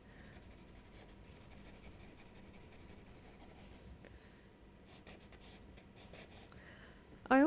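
Graphite pencil shading on paper for a still life of bottles, a steady soft scratching that runs continuously at close range, with a brief louder scrape right at the end.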